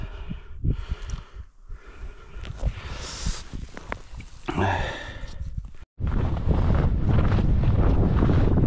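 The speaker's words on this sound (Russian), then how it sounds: "Вот так у нас второй день тоже ветер страшный." Strong wind roars and buffets the microphone continuously, with loud gusts throughout and a brief drop to near silence before it surges back.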